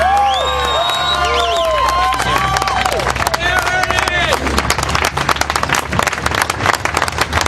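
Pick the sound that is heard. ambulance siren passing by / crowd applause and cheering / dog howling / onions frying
crowd applause and cheering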